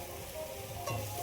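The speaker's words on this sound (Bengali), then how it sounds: "সেই ভাজা মশলাটা দিয়ে দিচ্ছি।" Fried spice mix goes into a pan of tomato pickle, giving a soft, continuous sizzle with faint stirring scrapes, quiet and close, without any talking.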